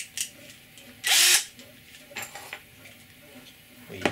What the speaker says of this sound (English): we'll start by drilling the first hole.